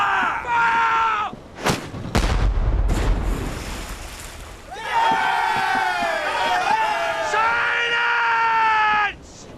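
The bow chaser cannon of a late-18th-century naval sailing ship fires in one heavy, deep boom, with a rolling rumble after it. Shouting crews fill the air before and after the shot.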